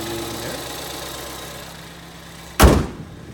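A 2013 Ford Escape SE 4WD SUV idles with a steady low hum, close by, then cuts off abruptly with a short, loud thud near the end, leaving quiet.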